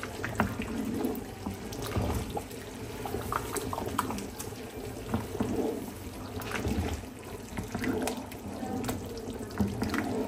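Tap water runs steadily into a sink in a home kitchen while meat is being prepared for cooking, a continuous close splashing flow with no talk over it.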